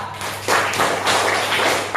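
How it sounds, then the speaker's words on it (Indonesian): Students in a classroom clap for a group, a short patter of hands rising after a quiet moment and holding steady over a low background hum. "tepuk tangan untuk kelompok 4"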